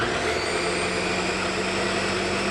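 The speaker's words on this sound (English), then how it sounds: "But now it's time to blend, baby." A kitchen blender runs steadily on a low setting, pulsing through ingredients for homemade pesto in a low-carb meal-prep kitchen, its motor whirring loud and continuous with no pauses or voices.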